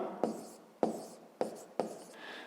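Numbers are handwritten with a pen on paper in a math lesson. Four quiet, distinct scratching strokes are evenly spaced, each a sharp tap that trails off, close and isolated.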